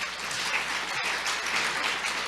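A church congregation gives a round of applause during a sermon, dense steady clapping from many hands filling the hall, with a brief dip in the middle.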